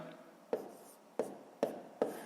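Pen or pencil writing numbers by hand on paper for column multiplication, four short close scratching strokes in an uneven rhythm, quiet and alone.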